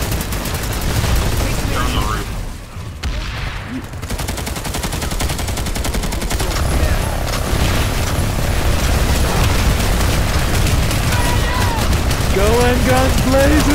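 Sustained, loud gunfire in the video game Planetside 2, with continuous rapid shots and bursts, brief booms and mechanical clatter, and voices talking over the firefight.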